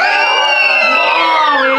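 Children screaming and shrieking together in a Halloween comedy-horror setting, a dense, sustained, loud wall of high-pitched yells filling the whole moment with no pause.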